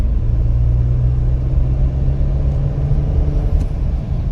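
A 2025 Ford F150 engine pulls hard in sixth gear, a steady loud low rumble of road and motor noise that holds strong throughout with no voices.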